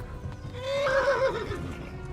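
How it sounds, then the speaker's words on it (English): A horse in the medieval game Kingdom Come: Deliverance gives a loud, sharp whinny after being struck, rising and falling over about a second with hoof clip-clop beneath, alone without talk. "Oh my god, I think my horse just got hit."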